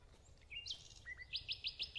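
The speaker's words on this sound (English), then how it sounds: "all the birds and stuff when you're inland sounds awesome" Birds chirp in the inland areas of the video game Salt: a few short high tweets, then a quick run of five evenly spaced bright chirps, clear and fairly close over a quiet low hum.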